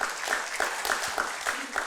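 A church congregation applauds during a Sunday service, a steady wash of many hands clapping with a few sharper claps standing out, moderately loud and even throughout.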